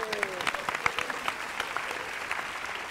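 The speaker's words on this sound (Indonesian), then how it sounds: "Tepuk tangan sekali lagi." A studio audience on an Indonesian talk show applauds with scattered, moderately quiet clapping that keeps going for the whole stretch, with a faint voice briefly underneath at the start.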